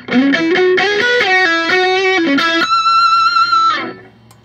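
Electric guitar played through a Mark IV distortion amp model with a compressor engaged, a run of driven, sustained notes and chords that ends on a long held note fading out, played alone.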